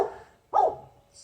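A dog on a rental property gives two short, sharp barks nearby, with a brief pause between them, heard alone and fairly loud.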